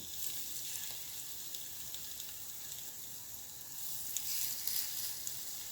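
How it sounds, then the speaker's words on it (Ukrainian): Steady, close sizzling of an onion-topped sandwich frying onion side down in hot oil in a pan, a continuous crackling hiss that swells a little louder near the end. "Сковорідку влила олії і в розігріту олію цибулею вниз викладаю бутерброд."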